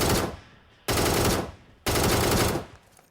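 Gunfire in PUBG Mobile: three loud, sharp bursts of automatic weapon fire, each lasting under a second with a fast decaying tail, spaced about a second apart and heard alone.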